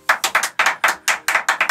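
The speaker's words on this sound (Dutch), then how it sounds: "Applaus!" Bursts of studio-audience applause break out in short, rhythmic waves of clapping, loud and close, each swell rising sharply and fading quickly, with no voices over it.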